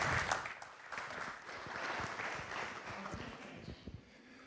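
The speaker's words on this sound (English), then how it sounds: "Give a warm welcome. Give a round of applause." Round of applause welcoming the FIM president onto the stage at a speedway world championship conference, a moderately quiet, steady patter of clapping from a seated audience.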